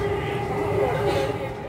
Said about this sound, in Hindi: हम लोग बस नेक्स्ट मेट्रो के लिए वेट कर रहे हैं